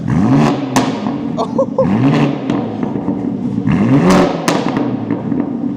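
A BMW M4 G82 engine revs up repeatedly, several rising and falling bursts of raspy, loud exhaust noise over a steady idle, close by, with brief voices in between.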